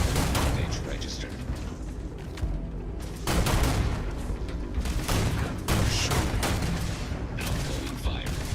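Dense, continuous gunfire in the space video game Starfield, a sustained barrage of loud shots and bursts with heavier booms, running for several seconds while voices speak over it.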